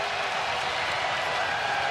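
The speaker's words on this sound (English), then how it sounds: "And here come the fans at the Siegel Center." Basketball fans at the Siegel Center roar in a dense, sustained wall of crowd noise that holds steady and loud throughout, like a packed arena at full volume.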